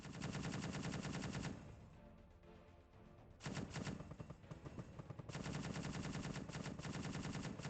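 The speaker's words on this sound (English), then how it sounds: "we are firing on that base over there for some reason." Rapid automatic gunfire fires on a base in the video game Space Engineers, dense machine-gun bursts in three long volleys separated by short pauses, loud and steady with no talking.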